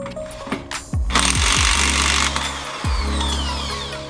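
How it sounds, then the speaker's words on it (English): Impact wrench hammering loose the 32mm wheel spindle nut on a Honda Civic during clutch and transmission work, several loud rattling bursts with brief pauses between them, close and continuous, no talking. "Start with removing the 32mm wheel spindle nut."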